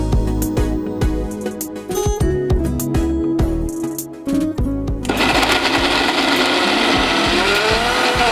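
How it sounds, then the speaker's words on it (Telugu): A mixer grinder whirs loudly as it grinds dry fruits for modak, starting with choppy bursts and clattering pulses, then settling into a continuous high-pitched grinding roar. "ఇది కూడా మూత పెట్టుకుని మళ్ళీ గ్రైండ్ చేసుకుని వచ్చేసుకో."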